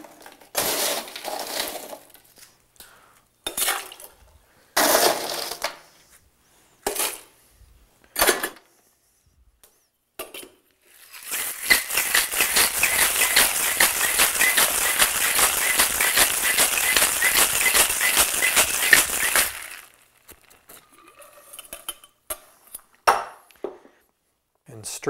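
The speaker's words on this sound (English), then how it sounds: "I'm going to shake this with ice." Ice rattles hard inside a cocktail shaker in a steady, rapid rhythm for about eight seconds, close and loud, as a tequila and orange juice drink is shaken; short clinks of glass and bar handling come before and after.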